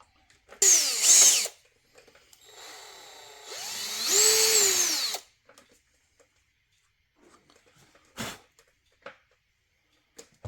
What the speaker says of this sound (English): I need to chamfer that a little bit. I'll do that with a big drill.